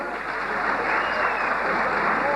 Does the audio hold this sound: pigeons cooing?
no